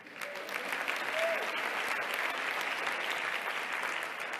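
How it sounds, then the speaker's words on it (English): An audience at a keynote address breaks into applause, the claps swelling within the first half second into a full, sustained roar of many hands in a large hall, with faint voices mixed in. "Yeah, I think we're clapping,"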